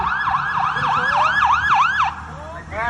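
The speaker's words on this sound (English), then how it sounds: "This time we were doing a motorized PAs, air horns, sirens, those sort of things." A wailing electronic siren cycles rapidly up and down in repeated whoops, loud and close, sounded for a dam-failure evacuation drill by a fire station, then cuts off abruptly.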